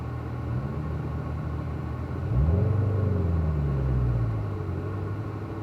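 A car pulls away onto a race track at the start of a track session, its engine a low, steady rumble that swells as it accelerates midway and then settles.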